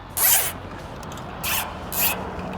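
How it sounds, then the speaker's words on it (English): A plastic zip tie is ratcheted tight around a fuel hose cam-lock coupling at a desert off-road race fuel stop, giving three loud, close zipping bursts with short pauses between them. "And after I do that, I always put a zip tie on these"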